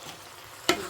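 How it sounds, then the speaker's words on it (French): A single brief scrape of a spoon through a pot of lentils with bacon and sausages, a short sizzling stir after a quiet moment. "On va bien remuer ceci"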